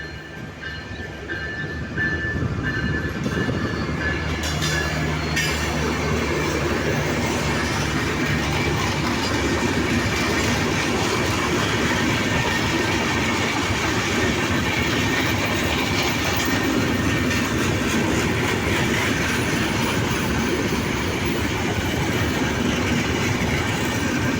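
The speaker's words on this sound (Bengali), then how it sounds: "ট্রেনও চলে আসছে দেখতেই পাচ্ছেন মধুমতি এক্সপ্রেস ট্রেন" The Madhumati Express rolls through a railway station, swelling quickly into a loud, sustained roar of wheels and carriages with rhythmic clattering over the rails, heard up close throughout.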